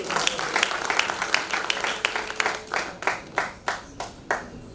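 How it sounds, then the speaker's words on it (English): Audience at an International Women's Day celebration clapping, dense at first and thinning into a few loud, separate claps near the end, with murmuring voices underneath. "Please clap for yourself."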